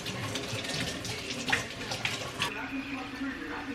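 Tap water runs steadily into a sink while leaves are washed indoors at home, a broad continuous rush with a few brief splashy surges and faint talk in the background.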